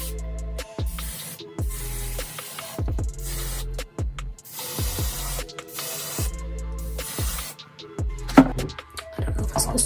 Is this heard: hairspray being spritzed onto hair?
yes